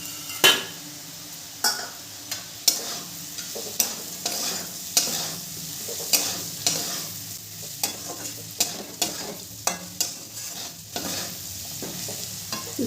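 Chira pulao being stirred with Maggi masala in a pan, repeated sharp clinks and scrapes of a spatula against the metal over a light sizzle, close and rhythmic, with no talking.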